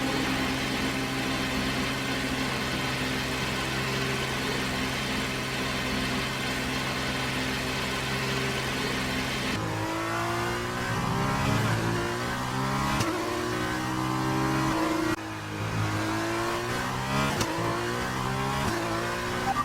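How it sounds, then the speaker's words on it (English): A Formula 2 race car idles with a steady mid-pitched engine drone, then revs and pulls away from the garage in rising, falling bursts of acceleration, loud and close, with no voices over it. "we have a car leaving."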